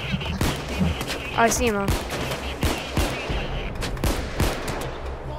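Rapid gunfire from the heist shooter game Payday 2, sharp repeated shots and bursts crackling through the scene while a player talks over the action.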